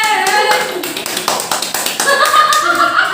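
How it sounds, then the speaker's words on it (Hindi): People clap loudly in quick, rhythmic bursts to cheer on a singer, with voices talking over the claps. "तो जोरदार ताली हो जाए"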